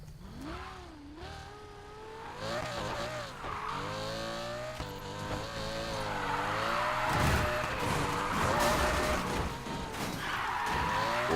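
Need for Speed Payback race car engine revs and climbs through gears while tires squeal and skid, loud and continuous, with the pitch sweeping up and down through the run and no talk.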